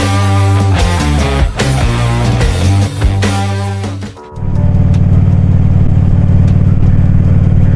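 A motorcycle pulling away from a gas station after refuelling: a loud, close engine revs and clatters, then settles into a steady, droning run as the ride gets under way.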